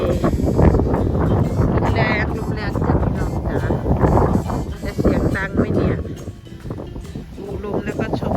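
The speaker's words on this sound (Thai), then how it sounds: "วิวมันจะพอได้ชมไหมนะเสียงดังอย่างนี้ ลมแรงมากนะ" Strong wind buffets a microphone outdoors, producing a loud, continuous low rumble and roar that surges in gusts for the whole stretch.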